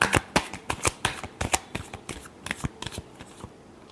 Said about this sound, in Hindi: स्कॉर्पियो के रिलेशनशिप की आउटकम क्या होगी? Last shuffle.